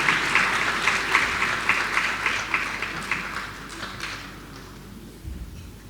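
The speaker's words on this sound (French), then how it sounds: "Est-ce qu'on peut les acclamer chaudement pendant qu'ils descendent?" Audience at a Dakar masterclass applauding three panelists as they leave the stage, a steady wash of clapping that gradually fades over several seconds before a brief low thump near the end.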